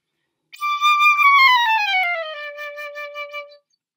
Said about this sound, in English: There's also the piccolo, which is like the baby of the family and is much higher.